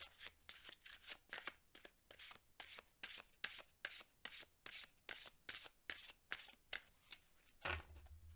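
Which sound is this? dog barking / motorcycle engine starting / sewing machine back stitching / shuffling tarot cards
shuffling tarot cards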